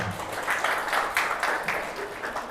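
An audience at a talk bursts into brief applause, the clapping swelling and fading in quick uneven waves over a couple of seconds.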